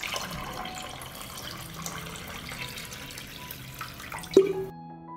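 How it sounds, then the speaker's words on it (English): Hot water poured from a vessel into a cloth-lined pot packed with glass jars, a continuous close splashing and gurgling stream that ends with a brief clink and drip before silence. "I pour hot water up to the height of the lid."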